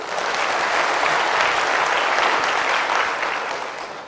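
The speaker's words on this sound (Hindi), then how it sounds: "भाई मेरी अलौकिक मां के लिए तालियां तो बजाइए" Sustained audience applause at a spiritual talk, dense and steady throughout, tapering slightly toward the end with no voices over it.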